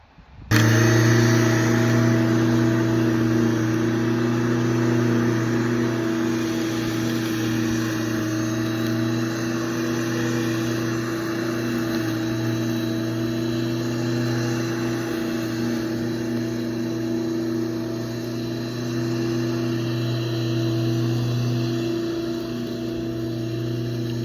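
An electric lawn mower runs steadily for the whole stretch, a close, loud, constant motor hum with strong low tones and no talking over it.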